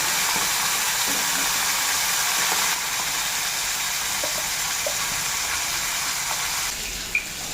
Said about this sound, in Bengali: তো বন্ধুরা এদিকে মাছ ভাজাটা হতে দিতে